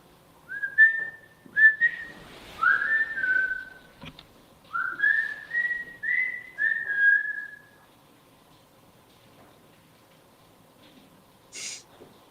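A person whistles a short tune of rising and falling notes, about seven clear phrases over several seconds in a quiet room, then silence and a faint high hiss at the end.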